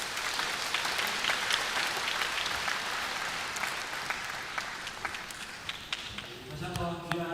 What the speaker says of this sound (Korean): 발표 또 준비하고 또 전해주신 우리 목사님들께 큰 박수 부탁을 드리겠습니다.